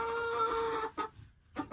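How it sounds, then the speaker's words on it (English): Backyard chickens let out a drawn-out tonal squawk followed by two short clucks, fairly close with quiet gaps between calls. "Chickens are bullies"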